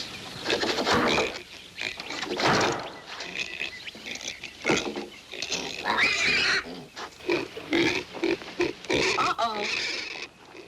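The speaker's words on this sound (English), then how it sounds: "Unless those pigs are wild" Piglets grunt and squeal in a series of close, choppy bursts, mixed with scuffling and someone talking over them.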